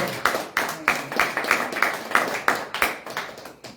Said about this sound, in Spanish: Vamos a dar un fuerte aplauso a la presencia de Dios